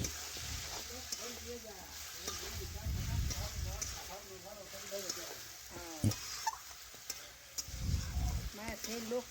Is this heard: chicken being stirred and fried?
yes